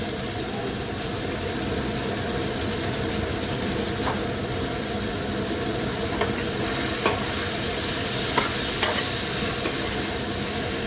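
Mushrooms with spices being stirred and fried in a pan, a steady close sizzle with faint scraping and a few light clicks of the utensil toward the end.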